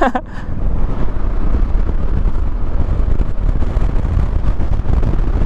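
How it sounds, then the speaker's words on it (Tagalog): Strong wind buffets the microphone with a continuous roaring rumble, gusting unevenly throughout, loud and close. "Ang lakas ng hangin guys."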